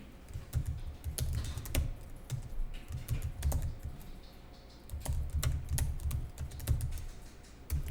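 Continuous typing on a computer keyboard while entering accounting data, with quick irregular key clicks and occasional heavier keystrokes, fairly close and moderately quiet.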